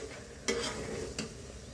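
A spoon stirs an olive pickle frying in oil in a wok, giving a quiet, continuous sizzle with two sharp scraping strokes against the pan, heard close.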